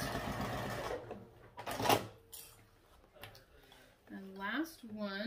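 A sewing machine back stitches a seam on a crossbody bag, a short mechanical run of stitching mixed with handling clatter, with a person talking over and after it.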